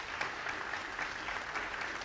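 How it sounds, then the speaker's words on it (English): A crowd at a wrestling hall-of-fame ribbon-cutting in an arena claps steadily for wrestler Bushwhacker Luke, in a short, moderately quiet, continuous round of applause. "would you give a quick round of applause to Bushwhacker Luke?"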